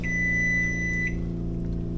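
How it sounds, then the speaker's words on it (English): A kitchen timer goes off during caramel corn baking, sounding a steady high-pitched electronic beep for about a second over a low hum of kitchen background noise. "There's our timer going off."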